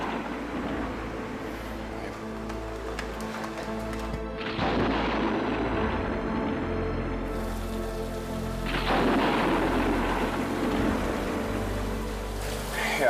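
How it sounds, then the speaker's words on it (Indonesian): Heavy rain pours down during an Indonesian TV drama night scene, a dense, steady roar that swells louder midway with rumbling low tones, with faint voices underneath. "Hujan deras kayak gini"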